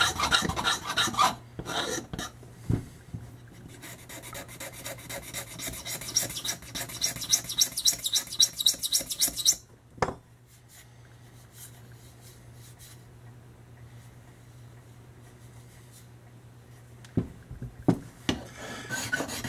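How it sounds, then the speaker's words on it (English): A hand scraper rasps along a tobacco pipe stem in quick, repeated dry strokes for about ten seconds, then pauses to near silence before a few last short scrapes near the end, close and alone. "this scraper is actually going to be a pretty good tool for getting down in there."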